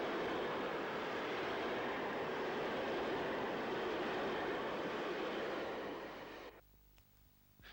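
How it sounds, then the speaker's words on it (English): RE444 class electric train running as a Geneva Airport to Ventimiglia Express through Visp, a loud, steady broadband roar of passing rail cars that holds for about six seconds, then drops away abruptly to a quiet low hum. "This train is a Geneva Airport to Ventimiglia Express."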